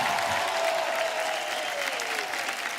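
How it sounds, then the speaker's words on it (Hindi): Loud, sustained applause and cheering from a studio audience welcoming guests on a TV comedy show, a dense continuous roar of clapping with no single hands standing out. "जोरदार तालियां हमारे मेहमानों के लिए।"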